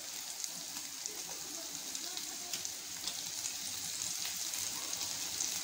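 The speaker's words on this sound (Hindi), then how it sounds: "जैसे ऑयल ये हीट हो जाए हम इसमें डालेंगे हमारा गार्लिक जो हमने फाइनली चॉप किया है" Chopped garlic and broken red chillies fry in hot oil with a steady, bright sizzle that holds evenly and swells slightly toward the end, with no talk over it.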